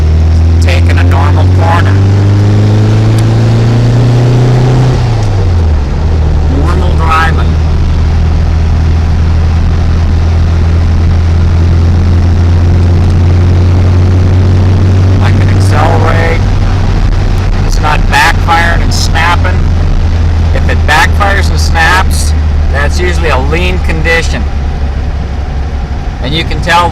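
A car with a single Weber IDF carburetor conversion takes a normal corner. The engine note is loud and steady, its pitch shifts as it slows and then pulls away, and someone talks over it throughout.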